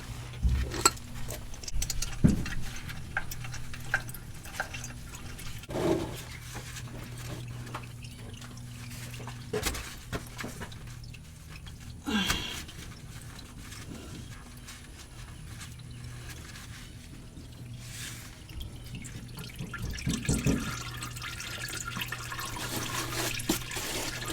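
Engine oil drains from a 2008 GMC Sierra 1500 into a pan, a soft steady trickling pour with scattered clinks and handling knocks throughout, close by and without speech.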